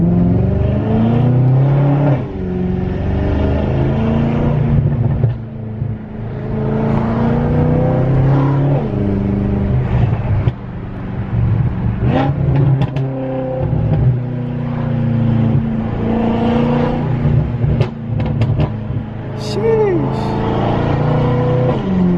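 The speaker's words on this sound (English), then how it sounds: "I'm gonna miss this exhaust. This thing sounds so sick." Exhaust of a BMW M5 on the move, a deep engine drone that swells and eases with throttle changes, steady and close, with someone talking over it at times.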